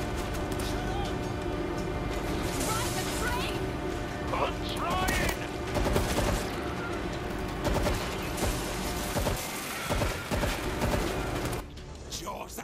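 Gunfire in the zombie shooter World War Z Aftermath, continuous rattling shots and mechanical clatter throughout a busy game mix, with speech-like voices layered underneath.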